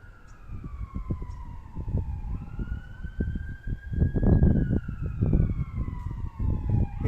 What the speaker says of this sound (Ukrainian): Швидка допомога.